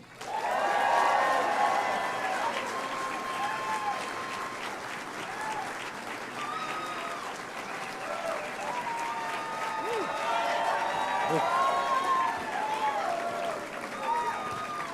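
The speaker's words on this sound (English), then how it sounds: "let's give him a Nashville, Tennessee, huge round of applause" Sustained applause with cheering from a large crowd at a Nashville, Tennessee rally, loud and continuous across the whole stretch, rising again toward the end, with voices calling out amid the clapping.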